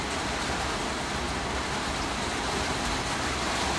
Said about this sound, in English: I'm going to pause this for the fucking rain.